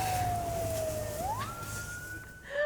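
An emergency siren on a Tokyo street wails faintly at a distance, its pitch sliding down slowly then jumping up and holding, over a low hum of traffic.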